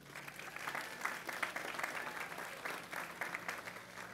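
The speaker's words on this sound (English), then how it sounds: "Please give her a round of applause." Scattered, moderately distant applause from an outdoor audience at a light rail extension groundbreaking ceremony, a steady patter of claps lasting a few seconds.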